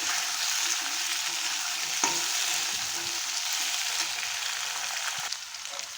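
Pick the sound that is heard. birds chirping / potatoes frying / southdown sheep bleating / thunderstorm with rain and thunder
potatoes frying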